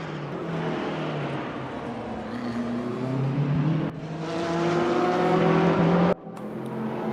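BMW and Mercedes endurance race cars howl around the Spa circuit, a loud engine note climbing steadily through the revs with sudden drops at two gear changes, no voices over it.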